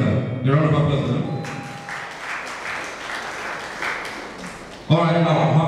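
Applause at a regional secondary school quiz competition in Ohafia, a steady wash of clapping from the audience lasting several seconds between stretches of a host's voice.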